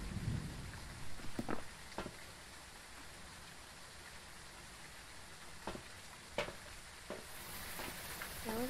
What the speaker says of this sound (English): Now look at this rain.